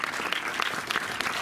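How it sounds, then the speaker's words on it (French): Applause from an audience at a talk on Stanley Kubrick, dense steady clapping filling the whole stretch at moderate level with no voices over it. "vous pouvez applaudir"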